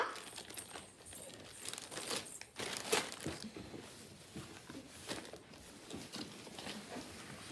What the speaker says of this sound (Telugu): వచ్చేసి ఒక రెయిన్ జాకెట్ ఓపెన్ చేసి చూపిస్తాను.